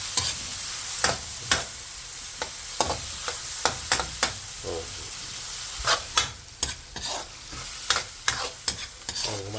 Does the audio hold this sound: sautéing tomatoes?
yes